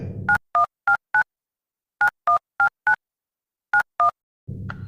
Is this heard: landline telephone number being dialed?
yes